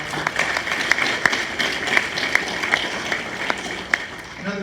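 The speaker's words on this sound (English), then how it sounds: "Can we give Mr. Baxley a round of applause?" Audience applause at a school Veterans Day program, a steady wash of clapping with a few sharper individual claps standing out over about five seconds, moderately loud in a large room.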